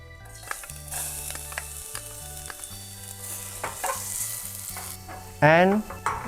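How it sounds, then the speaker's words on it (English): Garlic sizzling in a hot pan while being stirred, with steady frying crackle under a low sustained musical tone, and a brief louder clatter near the end. "First, we saute the garlic."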